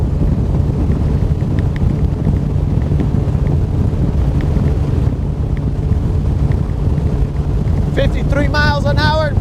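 A boat driving into a 53 mph headwind on Lake Guntersville, with steady loud wind buffeting and engine rumble throughout, and a brief voice near the end.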